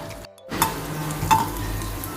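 Raisins frying in a pan and being stirred, a steady close sizzle with a couple of brief scraping clinks from the utensil.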